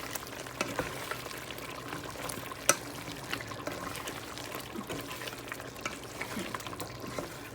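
Chicken karahi stirred in a pan, a soft steady sizzle with scraping and clinks from the spoon and one sharper knock, close and moderately quiet, no voices.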